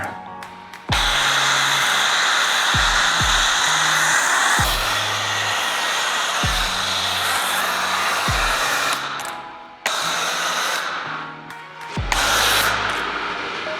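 A foam cannon on a pressure washer sprays foam onto a watercraft with a loud, hissing rush in long bursts that stop and restart several times with sharp cut-offs, close up and with no talk.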